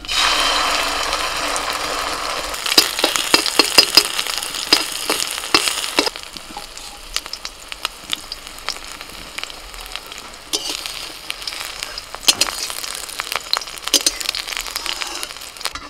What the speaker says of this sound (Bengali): কড়াইতে অল্প করে সরষের তেল দিচ্ছি।